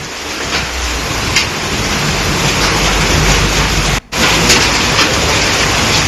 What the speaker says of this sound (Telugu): ఒకవైపు వర్షం కురుస్తూనే ఇంకోవైపుగా భారీ గాలి దుమారం